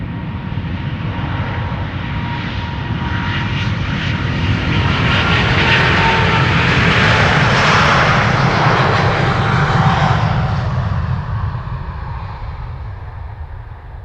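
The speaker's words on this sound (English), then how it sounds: "Those A350s have a typical engine sound, don't they? The high-pitched howl, but also that low growl." Airbus A350 engines on departure at Amsterdam Schiphol Airport: a loud jet roar that swells to a broad peak and slowly fades, with a high-pitched howl riding over a deep low growl.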